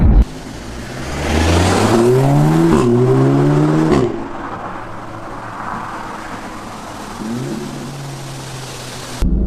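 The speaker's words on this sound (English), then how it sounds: "a lovely fart from the upshift exhaust" A 2016 Audi S3 engine revs hard and climbs in pitch, then drops on the upshift with a sharp exhaust pop before settling back to a steady drone.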